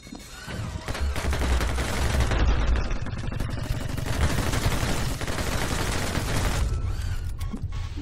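Rapid gunfire in the video game My Friend Pedro, including a Kar98 rifle, a loud dense barrage of shots and clatter over a heavy low rumble, nearly continuous.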